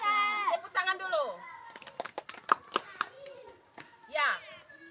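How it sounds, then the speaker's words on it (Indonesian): Children in a classroom clap in a quick run of sharp, distinct claps in the middle, framed by kids' voices talking before and after. "Tepuk tangan dulu."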